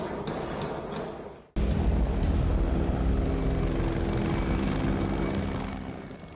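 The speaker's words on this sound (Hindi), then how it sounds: "यूक्रेन के गोस्तेमेल इलाके में गरज के साथ आगे बढ़ता यह हेलीकॉप्टर रूसी सेना का Mi-24 है" A Russian Mi-24 military helicopter flies over the Hostomel area of Ukraine, a loud, steady rotor and engine roar that cuts in abruptly and holds strong before easing slightly at the end.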